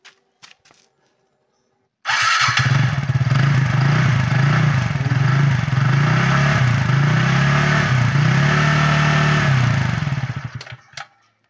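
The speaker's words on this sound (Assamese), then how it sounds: "চাইলেঞ্চাৰৰ আৱাজটো আৰু একদম ওচৰৰ পৰা শুনাই দিম" A TVS Ntorq Race XP scooter's exhaust silencer heard up close, a loud steady idle burble that starts abruptly, holds for about eight seconds, then cuts off.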